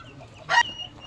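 A single brief cluck from a chicken, fairly close, standing out against quiet background noise.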